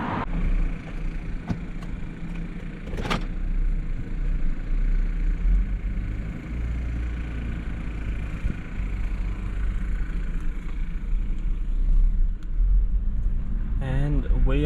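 Steady road traffic on a highway near Cann River heading toward Melbourne, a continuous low rumble of passing cars with swelling tyre and engine noise, fairly close, and a louder vehicle rushing past near the end.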